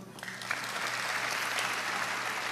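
Dense applause from a church congregation at a Bethany Indonesia service, a steady wash of many hands clapping at once for the whole stretch, with no voices audible.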